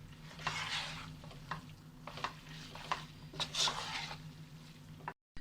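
Spaghetti noodles for an Indo-Chinese mixed non-veg dish are stirred and tossed in a sizzling pan, with repeated scraping and clattering strokes over a steady frying hiss, close and fairly quiet.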